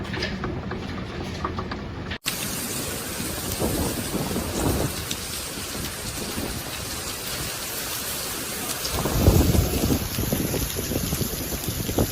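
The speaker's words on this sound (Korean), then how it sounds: "비가 안 오면 아예 안 오고 오면은 계속 옵니다" A heavy rain and hail storm over Shanghai makes a dense, continuous roar of pouring water that swells louder near the end, with no voices.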